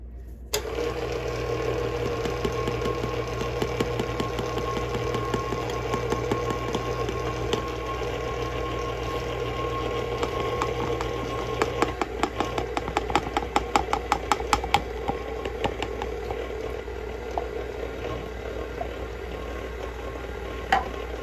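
A mixer churns flour into a mashed banana and yeast dough with a steady motor hum and rhythmic whirring. The speed rises partway through, adding a brief flurry of clicking and rattling.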